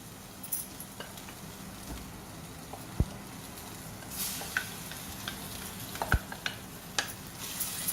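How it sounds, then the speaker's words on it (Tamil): Cooked dal tipped into a pan of tomatoes and stirred for Mysore dal gravy, a soft steady sizzle with scattered spoon scrapes and a couple of sharp clinks against the pan, no talk. "இப்போ வெந்த பருப்பு இருக்கு இல்லையா, அதை கொட்டிக்கலாம்"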